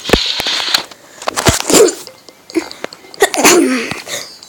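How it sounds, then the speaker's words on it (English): Several sharp sneezes burst out in quick succession during Toca Lab game play, loud and close, with a few short vocal sounds between them. "I keep sneezing."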